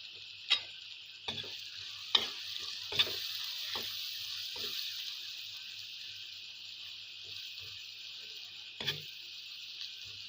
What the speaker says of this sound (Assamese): পিঁয়াজখিনি ৰঙচুৱা হোৱালৈ ধুনীয়াকৈ ভাজি ল'ম